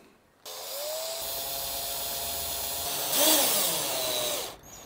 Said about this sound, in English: The screwing begins.